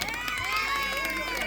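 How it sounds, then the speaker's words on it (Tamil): Village Pongal games prize-giving crowd, a brief burst of cheering and shouting voices with children's calls, loud and close, mixed with talk. "நல்லா கைத்தட்டி உற்சாகப்படுத்துங்க."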